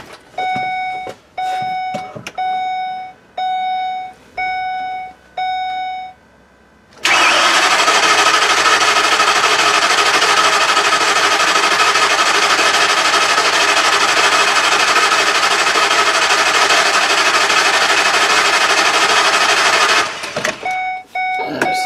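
A 2010 ambulance engine with many leaks gets cranked: a string of short electronic chimes and starter bursts, then the engine catches and runs loud and steady for about thirteen seconds before cutting off.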